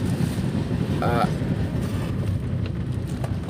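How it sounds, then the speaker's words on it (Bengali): Cold, foggy wind roaring steadily past a moving train on a journey toward Varanasi, loud and continuous close to the microphone, with no talk. "ঠান্ডা হাওয়াটাও বেশ ভালো যাচ্ছে"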